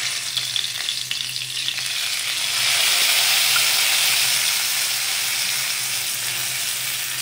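Cinnamon stick, bay leaves, small dried red chillies and cumin seeds frying in hot oil for vegetable khichuri, a loud, continuous crackling sizzle close by that swells and steadies partway through.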